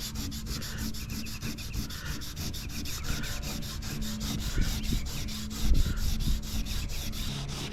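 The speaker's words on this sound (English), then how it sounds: "So I'm running some 180 grit." Sandpaper of 180 grit rubbed over truck paintwork in quick, steady back-and-forth strokes, a continuous close scratchy rasp with a brief heavier scuff near the end and no talking.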